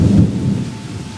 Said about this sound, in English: I'm recording the storm.